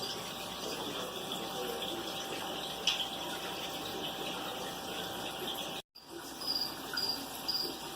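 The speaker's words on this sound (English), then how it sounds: "now we can fill it back up" Water runs steadily into an aquarium tank as it is refilled, making a continuous close trickle and rush. The sound cuts out briefly near the end and then resumes.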